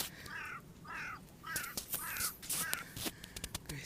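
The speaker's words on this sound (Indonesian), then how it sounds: "Wah, ada gagak guys." A crow caws repeatedly in a forest setting, about five harsh calls in a steady rhythm at middle distance, mixed with rustling and crunching footsteps nearby.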